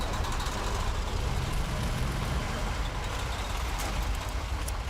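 A heavy truck's engine starts and idles in the off-road game Snowrunner, a loud, dense diesel rumble that stays steady from start to finish.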